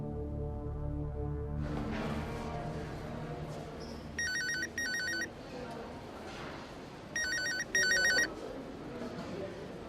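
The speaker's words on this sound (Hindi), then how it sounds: "मिसेस चानन का कॉल है।" A telephone rings twice in electronic trilling bursts, fairly near, over a murmuring background with some talk.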